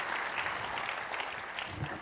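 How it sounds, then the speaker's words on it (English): Steady applause from an audience fills the whole moment, a dense even patter of clapping at moderate volume with no voices standing out. "Applause for Ati Kuningas."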